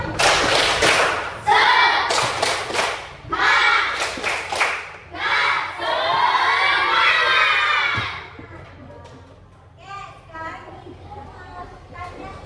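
Class 3A schoolchildren in an elementary school classroom perform a rhythmic spirit clap in loud bursts of clapping and shouting for about eight seconds, then the noise fades to quieter chatter.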